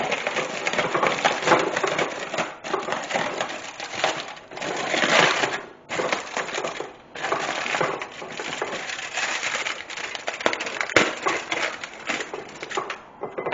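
Tin foil crinkles and crushes around baked pitta pizza pockets as it is peeled away, close and continuous crackling with brief pauses, no voices.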